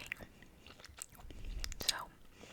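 Gum chewing close to the mic, with soft wet smacks and small clicks scattered over a couple of seconds. Quiet and intimate, with a faint whispery breath in between.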